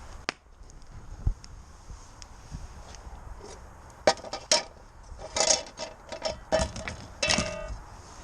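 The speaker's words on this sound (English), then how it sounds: "That is our very, very, very old camping pan." A very old camping pan is handled outdoors, giving scattered light metallic clinks and knocks, a few isolated taps early and then a busier cluster of rattles and clatters toward the end.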